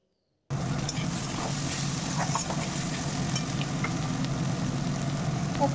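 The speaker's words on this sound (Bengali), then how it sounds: "এখন আবার একটু নাড়াচাড়া করে নিচ্ছি।" Vegetables cooked in their own released water with leftover rice, stirred in a pan: a constant low hissing sizzle with faint occasional scrapes, starting after a brief silence.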